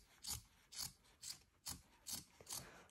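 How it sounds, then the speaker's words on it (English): Scissors trim a fabric bag lining with six evenly spaced, close, crisp snipping strokes, each a short rasping cut with a light thud, alone in a quiet room. "we're gonna go ahead and trim it now so it is even with the other one."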